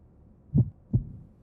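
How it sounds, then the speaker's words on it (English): A single heartbeat pulse in the Fire Emblem: Three Houses video game: two deep, soft thumps about a third of a second apart, alone and without talk. "Jeez, you could hear the heartbeat."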